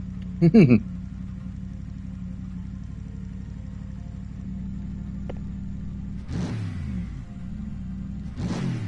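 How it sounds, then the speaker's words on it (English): A Mercedes-AMG car engine in a video game idles with a steady low rumble, then revs up loudly in two bursts near the end, after a brief sharp sound at the start. "Listen to that AMG Roar to Life again."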